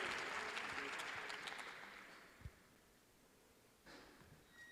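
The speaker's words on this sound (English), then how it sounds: "Big round of applause for our aerospace engineering team" An audience applauds an aerospace engineering team at a capstone design expo, dense clapping that starts loud and gradually fades out over a few seconds, with a brief thump and a short burst of renewed noise near the end.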